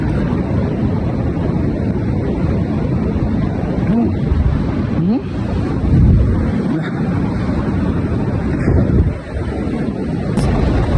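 Loud, continuous rush of a big flowing river in a jungle during a honey-hunting trip, filling the clip with dense broadband roar and occasional gusty buffeting.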